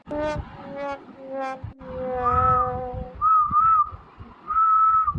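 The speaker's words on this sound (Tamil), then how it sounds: "யாரும் இங்க விசில் அடிக்கிற மாதிரி இல்லடி எனக்கு கூட கேட்டுச்சு" Sustained tonal whistling, several long notes and sliding pitches, loud and close with short pauses between phrases.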